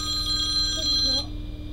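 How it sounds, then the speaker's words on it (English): A phone rings with a steady electronic ringtone while a live metal track plays, the tone cutting off partway through. "And that's my daughter ringing me"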